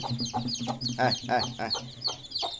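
A local desi mother hen with many newly hatched chicks clucks in a run of short, throaty calls over a steady low hum, fairly close.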